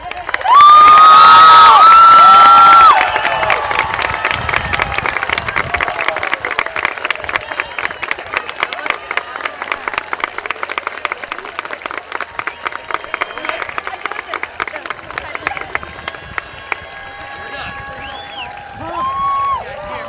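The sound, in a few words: graduation crowd cheering and applauding graduates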